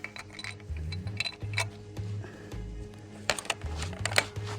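Metallic clinks, clacks and shuffling handling sounds come from a B-32 armor-piercing incendiary round being loaded into a Soviet World War II 14.5mm anti-tank rifle, irregular and fairly close, with several sharper bursts near the end.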